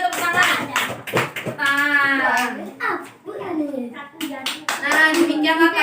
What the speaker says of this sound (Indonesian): Tepuk tangan dulu untuk kelompok 1 ayo, tepuk tangan.